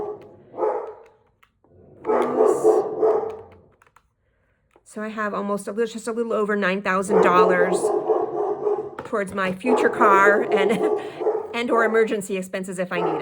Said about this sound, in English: So I apologize about the dog barking.